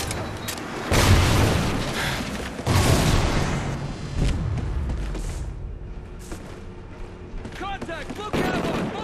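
Explosive detonations from the multiplayer shooter Call of Duty Ghosts: two loud booming blasts early on, then rumbling battle noise and scattered gunfire, with a voice calling out near the end.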